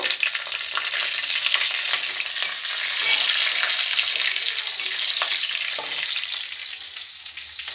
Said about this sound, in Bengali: গোটা সাদা জিরে দিয়ে দিয়েছি এবার দেব কাঁচা লঙ্কাগুলো ফাটিয়ে দিয়ে দেব